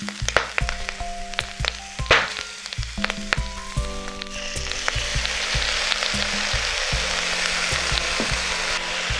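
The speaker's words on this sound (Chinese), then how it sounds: "我们可以加入事先炸好的肉片，然后接着呢，我们进行调味" Pre-fried pork slices stir-fry in a wok with wood ear mushrooms and garlic scapes, seasoned with salt and vinegar. Spatula clinks and scrapes open, then a loud, continuous sizzle builds and holds to the end.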